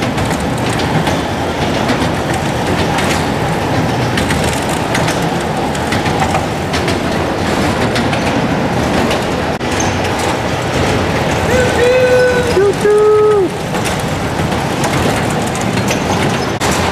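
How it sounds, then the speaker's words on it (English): A train rolls by with a continuous rumbling roar and rattling, with brief squealing wheel tones near the end; faint voices may sit underneath. "I hear the train is coming."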